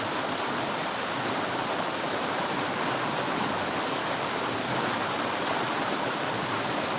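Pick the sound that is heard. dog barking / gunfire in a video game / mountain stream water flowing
mountain stream water flowing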